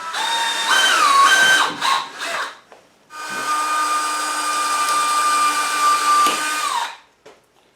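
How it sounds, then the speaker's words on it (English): Power drill boring a row of holes along the edges of a wooden nesting box lid for a chicken coop, two sustained whining bursts with a pause between, close and loud, ending in brief knocks. "I'm just going to take a drill bit and start putting multiple holes along the edges"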